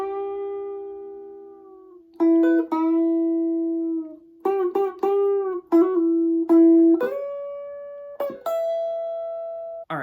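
An electric guitar runs through the whole first half of a song's solo: a string of picked, sustained notes with repeated plucks and slides, steady and close, with no voices.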